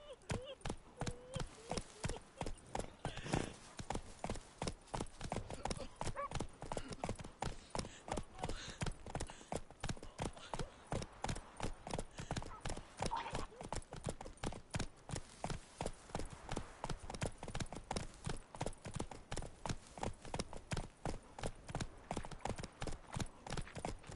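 Roach the horse galloping in The Witcher 3, hooves pounding in a rapid, steady rhythmic beat that carries on without pause for over twenty seconds, with game sounds faintly underneath.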